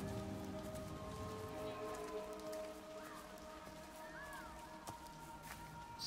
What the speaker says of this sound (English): Oh no, it's still raining.